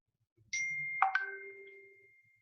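A phone notification chime rings out clearly: a bright bell-like tone followed by two quick higher pings, then a fading ring, with no talking.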